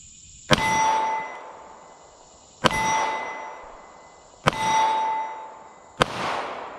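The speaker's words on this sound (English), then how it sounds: "I'm gonna shoot at the shorter target here." Four loud metallic rings from Canik TP9SF pistol rounds striking a short steel target, each a sharp strike followed by a bright, slowly decaying ping, spaced about two seconds apart with no talking.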